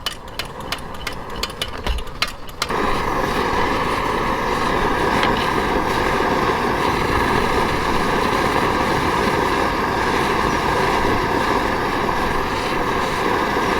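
A pressurized Primus kerosene stove burner roars steadily and loudly after a few seconds of pumping or clicking, a continuous dense rush with a low hum running through it.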